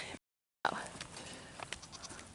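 Goats in a pen on a small homestead, with a short bleat right after a brief gap, then faint scattered animal noises and rustling nearby. A voice speaks quietly in the background.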